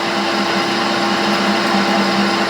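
A metal lathe doing heavy turning with a carbide tool, a loud steady whirring drone with a faint cutting hiss throughout and no breaks or talking.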